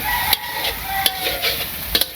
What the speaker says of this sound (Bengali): মিষ্টি কুমড়া কষানো হয়ে গেছে, ডিম দিয়ে দেয়।